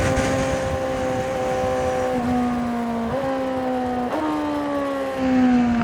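Honda CBR600RR motorcycle engine pulling in third gear on a 2025 model, a loud continuous drone that climbs steadily in pitch, dipping briefly at each throttle roll before rising again, recorded close from the rider's position with wind rush.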